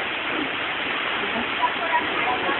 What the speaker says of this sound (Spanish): Aquí observando la cascada de misol-ha.